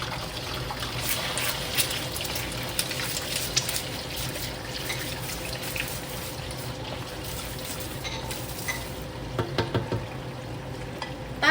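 An egg fries in a hot pan with a steady sizzle and crackle that runs unbroken for about twelve seconds, with occasional light stirring or scraping sounds.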